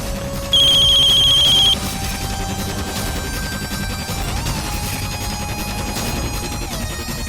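A telephone rings in a dramatic Indian TV series scene: a short, loud electronic ringtone burst lasting about a second near the start, over a steady bed of sustained tonal dramatic music, with no talking.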